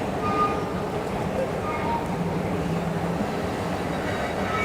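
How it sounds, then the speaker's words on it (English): A New York City 7 subway train runs through a tunnel in Manhattan, a steady, even roar and rumble that fills the whole stretch without pause. "This is the last stop on the 7th train in Manhattan."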